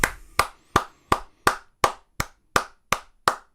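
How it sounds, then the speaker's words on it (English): Someone claps their hands alone, ten sharp claps in a steady, even rhythm, each crack crisp and close against silence. "clap your hands"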